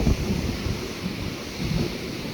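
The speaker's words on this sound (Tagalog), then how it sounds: "ang dagat ito" Sea waves rolling onto Boracay beach during stormy habagat season weather, a steady broad roar of surf mixed with gusty wind buffeting the microphone, with no voices.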